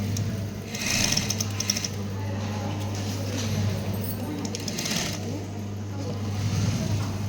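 A sewing machine stitching a lunch bag runs with a steady, close mechanical whir and rapid needle chatter, pausing briefly before resuming. Someone talks quietly beneath it.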